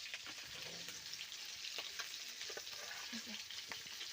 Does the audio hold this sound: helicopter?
no